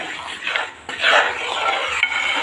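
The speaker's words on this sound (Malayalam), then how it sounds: "നമ്മൾ കൈവിടാതെ ഇളക്കിയിട്ട്" A spoon scrapes and swishes steadily through thick jackfruit payasam in a pot, close up, with no voices.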